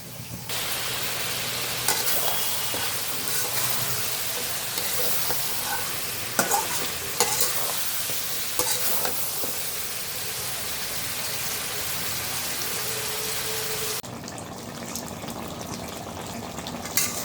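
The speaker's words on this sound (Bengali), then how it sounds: "এটাকে ভালোভাবে কষাই নেব আমি কিছুক্ষণ।" Duck meat with papaya and bottle gourd sautés in a pan, close sizzling and frying with intermittent stirring scrapes, fairly quiet and steady, changing in tone near the end.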